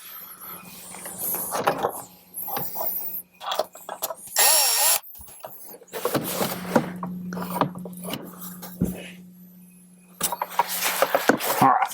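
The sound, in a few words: power drill driving screws into Jeep Wrangler speaker pod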